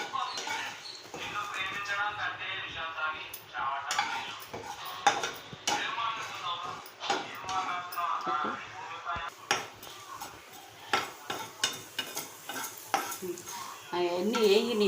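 Vegetables for cabbage chutney fry in a pan over a low flame, with steady scraping and clinking of a spoon stirring against the metal, soft sizzle beneath, and tonal background sound throughout.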